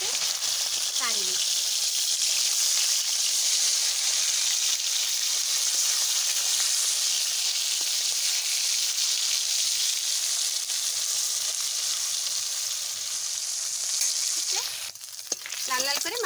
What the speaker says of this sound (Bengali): লাল লাল করে মাছ ভাজা করে নিচ্ছি